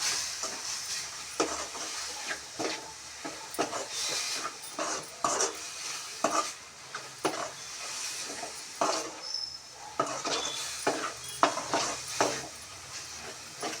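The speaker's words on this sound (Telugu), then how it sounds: "బాగా కలుపుకోవాలి" Beetroot curry stirred in a pan with a utensil, giving repeated scraping strokes at an uneven rhythm over a low sizzle, close up and without any talking.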